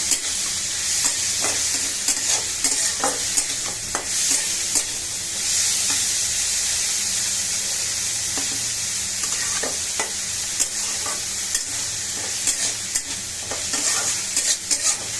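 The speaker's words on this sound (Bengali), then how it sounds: "পেঁয়াজ রসুন আর কাঁচা মরিচ চিংড়ি মাছ সুন্দর করে ভাজে নিচ্ছি।" Shrimp fry in a little soybean oil with onion, garlic and green chili, a steady close sizzle punctuated by frequent spatula scrapes and stirs, with no voices.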